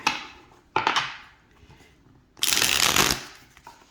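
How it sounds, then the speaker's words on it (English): Two quick riffle shuffles of a Tarot of Jean Dodal deck, a short fluttering burst followed by a longer, louder cascade of snapping cards, close by. "if you can figure out how to riffle shuffle better than I can on this particular deck"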